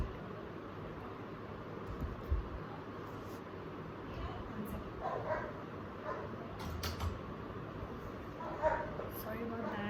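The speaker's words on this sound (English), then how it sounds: "Sorry about that, my dog is barking." A pet dog barks from a locked room somewhere in a home, giving a few faint, scattered yips and woofs beneath steady room noise and background speech.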